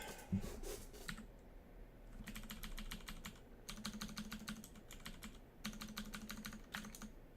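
Computer keyboard keys are pressed in quick rapid bursts with short pauses between them while Dungeon Crawl Stone Soup is being played. The clicks sound close and crisp, with no talking over them.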